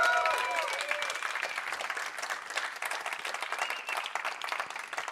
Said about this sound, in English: let's hear a round of applause right now.